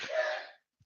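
A single short sneeze, fairly faint and slightly distant, followed by quiet.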